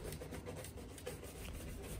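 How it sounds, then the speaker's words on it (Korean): A goat-hair brush sweeps over Alden 990 leather shoes in quick, repeated rubbing strokes, a soft continuous bristly rasp heard close up with no talking. "이제 염소털 브러쉬로 마지막 브러싱을 합니다."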